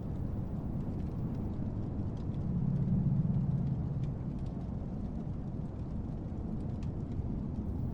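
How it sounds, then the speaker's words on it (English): Heavy rain pours in a steady, dense roar with a low rumbling undertone and a slight swell midway. It is continuous and heard on its own. "It's raining heavily now"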